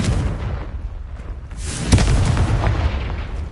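A Confringo fire spell blast in Hogwarts Legacy lands as a loud, deep boom with a rumbling explosive tail, part of a dense, roaring battle soundscape with no talk.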